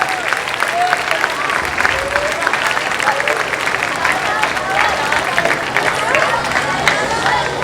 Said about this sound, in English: Please clap for this boy.